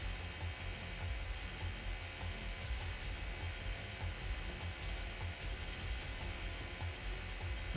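A drill grinds steadily at a bank vault in the video game Crime Boss: Rockay City, a constant high whining buzz over low rumble, with no talk.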